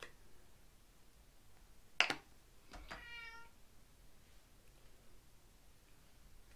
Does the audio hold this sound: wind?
no